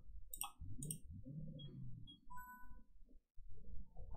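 Computer mouse clicks while playing a parking puzzle game: a few sharp, crisp clicks close up, two quick ones early and fainter ones later, over quiet low background sound.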